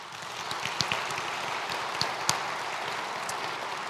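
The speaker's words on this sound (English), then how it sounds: "So another round of applause for them" Audience applause at the 67th annual Groundhog Breakfast, a steady wash of many hands clapping at moderate distance with a few sharper individual claps standing out, sustained evenly throughout.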